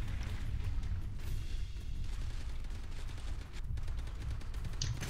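Gunfire in the dinosaur shooter game Primal Carnage: Extinction, a dense, continuous burst of shots and booms filling the whole stretch at steady loudness, with no voices.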